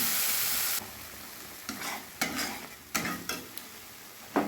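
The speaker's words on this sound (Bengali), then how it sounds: "এবার খুব ভালোভাবে মশলাটা আমি 4-5 মিনিট সময় নিয়ে কষে নেব" A ground spice paste sautéing in a pan for a vegetarian moong dal curry, with loud sizzling bursts and stirring scrapes in an uneven rhythm, close and without speech.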